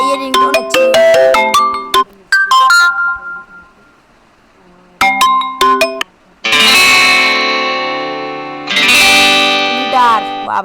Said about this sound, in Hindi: भाई ये रिंगटोन अच्छी है।